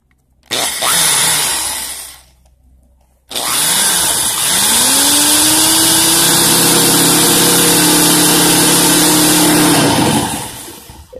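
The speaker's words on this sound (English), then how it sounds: "So let me drill a little bit in there." Power drill boring into a Honda Civic D16 turbo part: a short burst of whirring, a brief pause, then a long, loud, steady high-pitched drilling run that winds down at the end, close to the listener.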